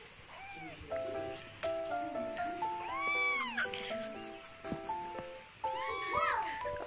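A small cat meows repeatedly, close and clear, with rising and falling cries in quick succession throughout, while someone speaks over it.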